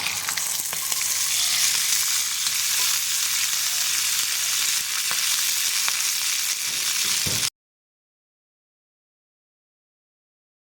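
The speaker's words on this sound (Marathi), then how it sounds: "आता आपण हे वाटाणे भाजून घेऊया" Green peas roasting in a little oil on a hot iron tawa over medium heat, a steady dense sizzle and crackle with faint stirring scrapes, close and continuous until it cuts off abruptly after about seven seconds.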